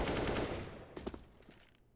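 Gunfire in the Counter-Strike video game at a professional tournament match: a loud burst of rapid automatic shots that fades, followed by a few quieter crackling reports.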